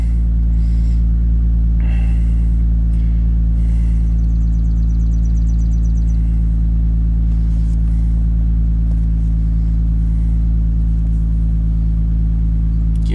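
A Mazda 6 with an automatic transmission stuck in third gear and jerking hard into gear is driven on a test drive, with a loud, steady low engine and road rumble inside the cabin and faint clicks over it.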